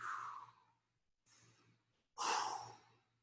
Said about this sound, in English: Focus on those belly breaths.